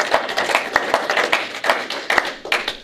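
A church congregation claps for Jesus during a service, a ragged burst of many hands close by with uneven, overlapping claps and no steady rhythm.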